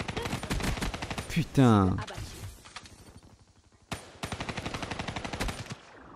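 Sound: gunfire from Call of Duty Black Ops 3 video game

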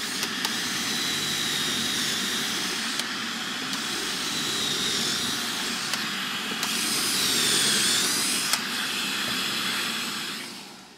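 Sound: drilling pocket holes in wooden frame boards

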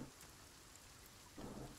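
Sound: rain and thunder in video game Sons of the Forest

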